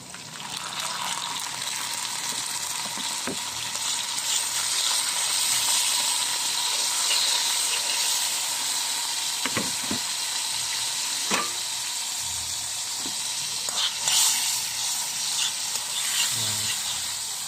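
Fish sizzles steadily in a hot pan while being fried for Filipino escabeche. The hiss is close and even, broken by occasional pops and the clicks of utensils.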